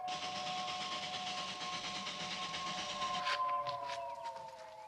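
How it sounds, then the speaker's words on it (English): A train draws near with a steady mechanical rumble and a sustained tonal horn-like whine, loud and continuous throughout. "The train's coming."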